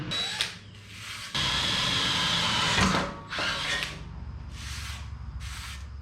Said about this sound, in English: Let's punch our 1/4 inch holes.